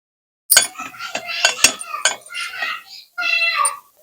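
Boiled eggs are scored with a piece of eggshell in a home kitchen, giving a string of close, sharp scratchy clicks and scrapes in irregular bursts, with a short pause before a final stroke.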